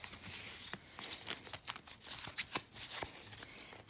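Oracle cards from the Arrows of Love deck are shuffled by hand, a quiet run of soft riffling flutters and crisp taps in irregular bursts, close and alone.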